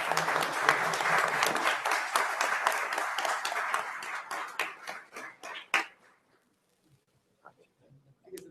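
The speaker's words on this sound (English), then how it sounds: "Ladies and gentlemen, a huge round of applause." A seminar audience applauds, many hands clapping loudly at first, then thinning into scattered individual claps that fade out to near silence, followed by a few faint stray sounds.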